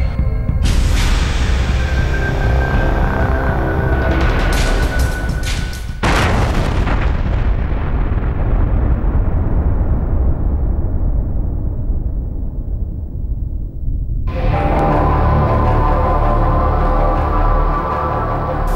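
Suicide bomb blast near the Wagah border crossing in Pakistan, heard as a loud, sustained roar and rumble with booming bursts, a sharp cutoff and lingering low decay, then another dense burst of noise near the end.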